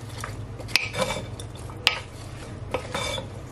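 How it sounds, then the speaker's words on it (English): Browning being stirred into a sweet pepper and potato mix in a pan, with a steady scraping stir, a few sharp utensil clinks against the pot and a light sizzle underneath, close by with no talk. "I'm just gonna add just a little bit more of my browning. Yes. Gonna mix it in."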